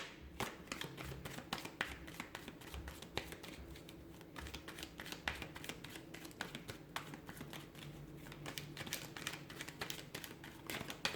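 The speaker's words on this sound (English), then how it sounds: "give the cards a shuffle" Tarot cards being shuffled by hand in a quiet room, with a steady run of soft, rapid riffling and tapping sounds, close and fairly faint, continuing without a pause and with no talking.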